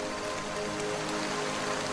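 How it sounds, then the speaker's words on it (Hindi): Heavy, steady rain pours down in a continuous dense hiss of drops striking surfaces, with no voices present. "आसमान से मूसलाधार बारिश हो रही थी"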